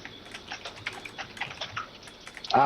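Keys on a computer keyboard are tapped in quick, irregular bursts close to the mic, and a louder clatter comes in at the very end.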